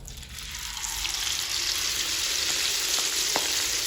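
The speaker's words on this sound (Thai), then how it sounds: "แล้วทีนี้ก็ทอดค่ะนี่อย่างนี้ทอด" Battered dough fries in hot oil with a steady, close crackling sizzle that builds slightly and holds, with occasional sharper pops and no talk.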